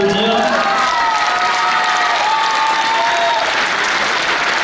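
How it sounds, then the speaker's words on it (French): Sustained, even applause from the audience at a chess championship closing ceremony in Hyères, filling the whole stretch with steady clapping and some light crowd noise. "On peut encore les applaudir."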